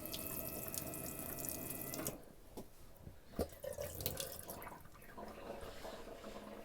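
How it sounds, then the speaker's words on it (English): Tap water running into a newly plumbed camper van sink, a steady close hiss that cuts off after about two seconds, followed by light drips, small clatters and a soft wiping sound. "We've got full running water now in the camper van."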